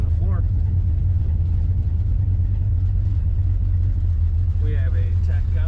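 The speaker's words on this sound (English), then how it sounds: "Here we have a 1970 Chevrolet Nova. Very aggressive exhaust note." A 1970 Chevrolet Nova two-door sedan with an automatic transmission idles with an aggressive, steady exhaust rumble, deep and loud throughout.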